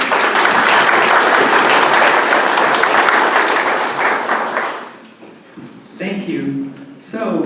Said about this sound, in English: So I'd like to give them a round of applause and congratulations.